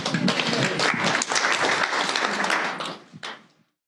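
Audience at a functional programming panel discussion breaks into sustained, dense applause that holds steady, then tapers off and stops abruptly.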